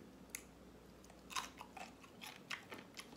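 Crisp bites of raw cucumber chewed close to the mic, with a few sharp crunches spaced out over a few seconds against a quiet background and no talking.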